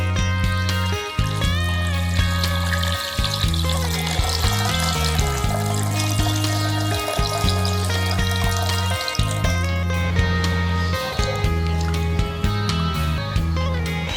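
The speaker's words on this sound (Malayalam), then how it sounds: "ഈ വെള്ളം ചേർത്ത് കൊടുക്കാം." Water pours steadily into a cooking pot holding two cups of basmati rice as four cups of water are added for spicy rice, a continuous splashing pour that runs throughout beneath strong, sustained tonal sound.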